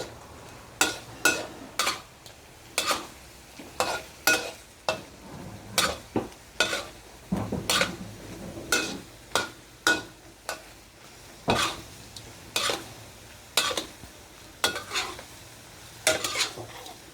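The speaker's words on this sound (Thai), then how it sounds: "ต้มจนน้ำแห้งเลยค่ะ พอน้ำแห้งปั๊บน้ำมันหมูก็จะออกมาค่ะ" Salted pork skin for crackling cooks in a pan as the water boils off and fat renders, a soft sizzle broken by regular close clacks and scrapes of a utensil stirring, repeating roughly every second.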